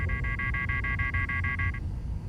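A phone rings in the video game Spider-Man Miles Morales, a rapid warbling electronic trill pulsing for nearly two seconds before stopping, over a low steady game ambience.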